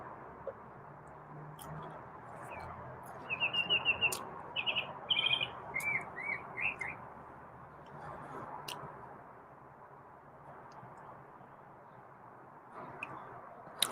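A pet bird sings a run of short, bright chirps and trills midway through, clustered in a lively burst before trailing off, over a steady low background hum with occasional clicks.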